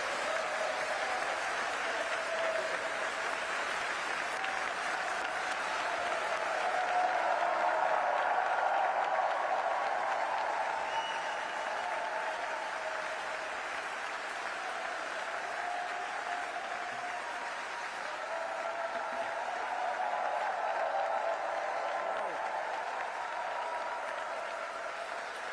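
A large audience gives President Biden sustained applause at a tribute to the late Ethel, a dense, even wash of clapping that swells and ebbs over about twenty-five seconds with no voices on top.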